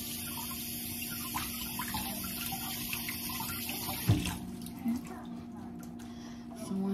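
Food rinsed under a running kitchen tap for Easter dinner, a steady hiss of flowing water that is cut off partway, followed by a couple of soft knocks, with a person talking.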